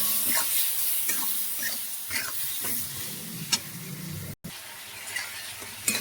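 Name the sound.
spice paste (masala) being stir-fried and sizzling in a pan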